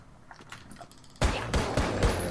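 Gunfire from the video game Alone in the Dark: Illumination shoots through a wall, with a loud burst of four or five sharp shots after quieter clicking mechanical noises.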